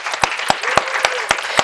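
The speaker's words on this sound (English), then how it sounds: "Let's give them a round of applause." Audience applause for panel speakers at an event, a close, fairly loud patter of clapping with a few louder individual claps standing out at a steady rhythm.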